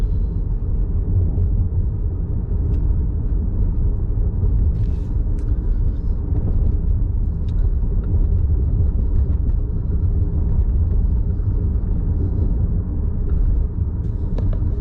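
A 2020 Honda Accord Hybrid driving on a highway in winter, heard from inside as a steady low road and tire rumble, even and continuous for about fifteen seconds with faint clicks.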